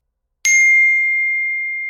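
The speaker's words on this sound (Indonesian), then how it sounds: "Suara bel menggema, namun tidak ada jawaban." A doorbell at the gate of a large, quiet house gives one bright electronic ding that rings on and slowly fades, clear and alone.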